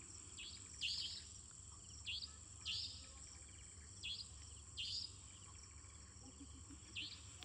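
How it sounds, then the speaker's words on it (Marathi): Birds calling outdoors in forest near Tadoba, short bright chirping bursts repeating every second or so over a steady insect and cricket drone, fairly distant and quiet. "पक्ष्यांचा आवाज बघा ना."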